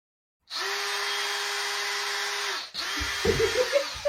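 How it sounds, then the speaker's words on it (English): An electric drill whirs steadily at close range for about two seconds, stops briefly, then restarts with uneven bursts as it bites. "Why have you got the drill out?"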